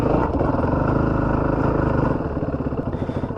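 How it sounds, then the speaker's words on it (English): Yamaha WR450F street-legal dual sport dirt bike on a ride, its engine a steady, loud, close thrumming drone that holds throughout with slight rhythmic pulsing and eases a little toward the end. "I'm on a fucking street legal dirt bike"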